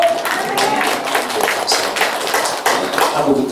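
A church congregation applauding during a Korean Baptist Sunday worship service, with dense, ragged clapping from many hands that stays steady and fairly loud throughout.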